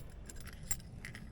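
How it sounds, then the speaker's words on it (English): Metal keys jangling briefly as they are lifted with a magnetic pickup tool, a few light clinks close by over a low background hum. "it's got a magnet on it, so you can pick up the keys"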